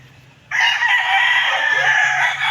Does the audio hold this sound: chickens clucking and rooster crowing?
yes